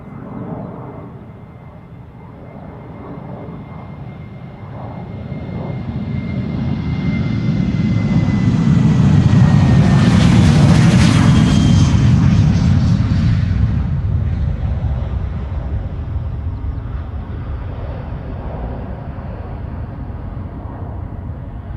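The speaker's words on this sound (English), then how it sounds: "And this is KLM flight 1199 to Oslo. It's a 737-800, 18 years old." An 18-year-old KLM Boeing 737-800 on flight 1199 to Oslo passes at Schiphol's Polderbaan runway, its jet roar swelling to a loud peak midway, then fading slowly into the distance, with no talking.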